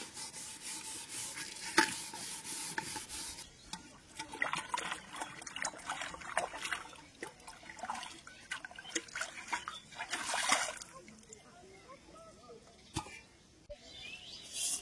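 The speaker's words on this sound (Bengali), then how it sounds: "হাঁড়িটা মেজে ধুয়ে নিলাম," Someone scrubs a cooking pot and rinses it with water, irregular rubbing strokes alternating with trickles and splashes, fairly quiet and close.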